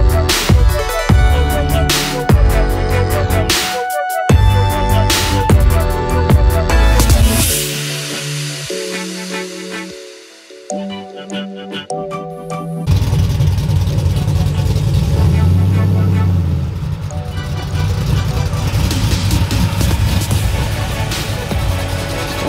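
A truck with a stage 3 cam kit idles with a choppy, uneven lope, a loud close rumble running steadily through most of the stretch, dropping out briefly partway through.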